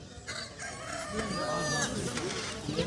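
Roosters crow and hens cluck at an open-air poultry market where chicks, ducks and brahma chickens are sold. Several overlapping crows ring out close by, with busy clucking and faint market chatter around them.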